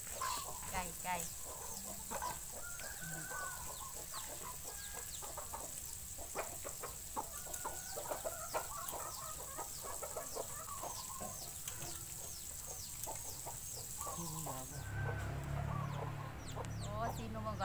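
Chickens cluck and chatter repeatedly near a farm home, a busy run of short calls with a few louder squawks, while people talk nearby.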